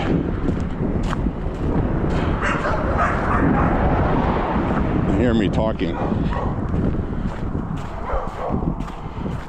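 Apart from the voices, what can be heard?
neighborhood dogs barking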